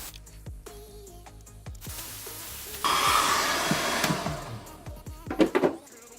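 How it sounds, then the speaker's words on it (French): A hair dryer roars steadily at close range, heating a sticker to peel it off, its blowing hiss rising in intensity partway through, with faint clicks and rustles underneath. "Que ce soit avec un sèche-cheveux ou un décapeur thermique"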